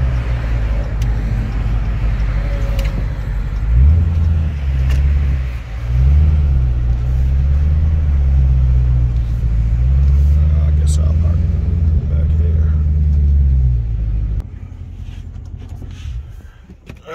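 A car driving along and pulling up outside Ted's Hot Dogs in Buffalo, New York, heard from inside as a loud, low engine rumble with rising and falling revs and road noise, then settling quieter near the end.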